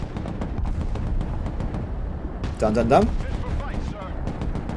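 Grenade launcher blasts and gunfire in the video game Broken Arrow, in a Baltic war mission raiding an airbase, rumbling as a dense, muffled battle bed under a man's speech, with a short sharper burst midway.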